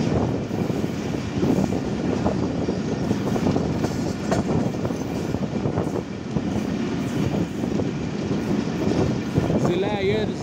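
Millat Express passenger train running into Toba Tek Singh station in Pakistan, a steady loud rumble of rolling carriages with rail clatter throughout, and a faint whistle-like tone near the end.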